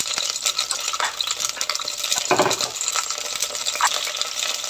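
Chopped ginger hits hot oil in a pan for a pork belly dish, giving a steady close sizzle with soft stirring scrapes and a few light utensil clinks; no one speaks.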